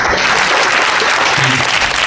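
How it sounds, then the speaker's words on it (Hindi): An audience at a construction-safety training session applauds, with steady, dense clapping that stays loud and continuous throughout, with no voices over it. "एक ताली मारिए इनके लिए, और जोर से मारिए"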